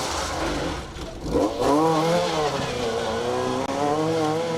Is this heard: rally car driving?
yes